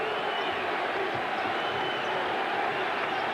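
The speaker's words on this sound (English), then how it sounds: "This Garden crowd is enthusiastic tonight." A large, enthusiastic arena crowd at Madison Square Garden during a 1988 Bulls–Knicks playoff basketball game roars in a dense, continuous wash of noise, filling the whole moment without breaks.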